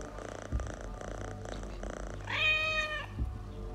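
Cat in Assassin's Creed Mirage purring steadily while being petted, a low rumbling loop close up, broken by a short meow partway through.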